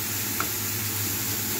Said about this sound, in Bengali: এবার হচ্ছে কুচনো পেঁয়াজগুলো ভাজা হচ্ছে,